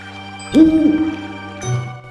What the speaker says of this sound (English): So here we meet our first guardian owl, Enore.